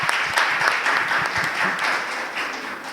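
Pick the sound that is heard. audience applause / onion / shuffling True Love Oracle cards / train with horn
audience applause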